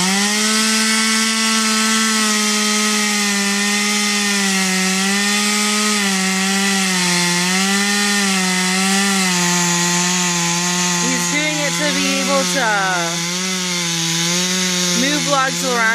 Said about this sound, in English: Right now, Jeep is putting a notch in this little log